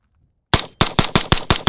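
Suppressed SIG MCX 11.5 rifle with a Huxwrx Flow K suppressor firing 55 grain rounds semi-auto: seven sharp, loud reports in a quick, fairly even rhythm after a brief silence, each cracking and then decaying fast.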